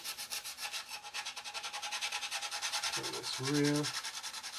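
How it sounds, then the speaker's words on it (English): A coarse file rasps a plastic part of a 1/32-scale Trumpeter Swordfish model kit in steady, rhythmic back-and-forth strokes, close and fairly quiet, with a brief spoken remark partway through. "So it's more like a rasping action than a polishing one for these coarser files."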